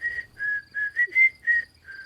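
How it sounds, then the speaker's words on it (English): A man whistles alone in a quiet setting, six short, clear, evenly spaced notes rising and falling in a simple tune. "As Ichabod approached this fearful tree, he began to whistle."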